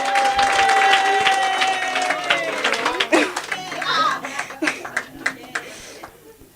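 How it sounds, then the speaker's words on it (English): Applause and cheering at a book launch, starting loud with whoops and a high whistle-like shout, then thinning into scattered claps, laughter and children's voices before fading out. "Can everyone please give her a big round of applause?"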